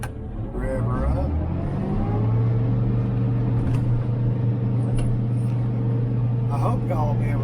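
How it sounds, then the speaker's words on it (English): A hay mower's engine runs close by, its low rumble climbing in pitch as it revs up within the first two seconds, then holding a steady, loud drone to the end. "Let's get our mower turned on."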